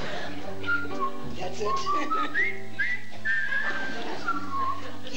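A man whistles a cheerful, wandering melody with sliding notes over a music backing, with a brief spoken remark near the start.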